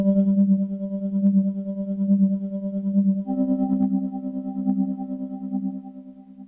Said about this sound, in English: A familiar sound in this VST is the one and only popular preset called Tremolo Signal.